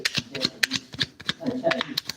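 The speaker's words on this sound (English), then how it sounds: "I'm shuffling. Y'all can see now." A deck of tarot cards shuffled close by in quick, repeated riffles and slaps, with a person talking over the steady card noise.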